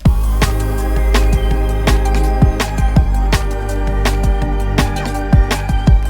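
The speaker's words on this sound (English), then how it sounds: "The whole beat without the reverb sounds like this." A full beat plays dry without any reverb, with steady kick and snare hits over sustained bass and chordal layers, loud and continuous for about six seconds, with no talking.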